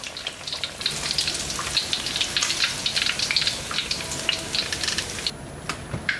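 Rohu fish pieces frying in hot oil, giving a steady, dense crackling sizzle with popping bursts throughout, close and continuous with no talk.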